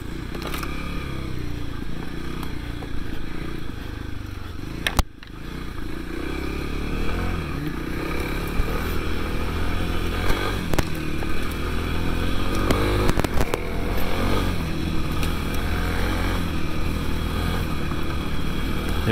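A 2021 Kawasaki KLX300S motorcycle being ridden, a steady loud engine drone with wind rush, a brief dip around a gear shift, then the engine pulls on with slight rising revs.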